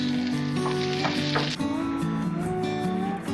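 Celery and onions sautéing in a pot for spicy turkey soup: a constant close sizzle layered with a sustained musical tone and faint clinks, no speech.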